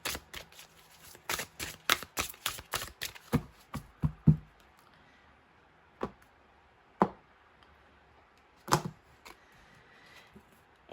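Tarot cards being shuffled for a reading: a fast flurry of riffling, flapping snaps close up, then a few separate sharp card taps and flicks spaced out with quiet gaps between them.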